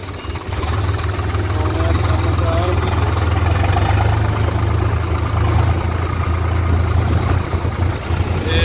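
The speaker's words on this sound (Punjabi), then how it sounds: "ਖੇਤ 'ਚ ਮਸ਼ੀਨਰ ਟਰੈਕਟਰ ਸੱਟ ਰਹੇ ਨੇ" A heavy tractor engine idles and chugs steadily close by in a farm field, a constant low rumble running the whole time with faint background noise.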